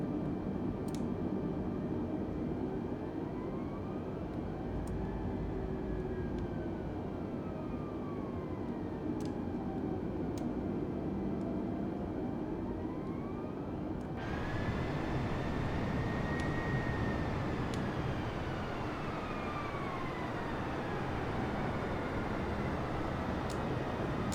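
Simulated aircraft engine drone in Microsoft Flight Simulator during a night flight, a continuous loud hum with slowly rising and falling tones, stepping up noticeably partway through as throttle is added.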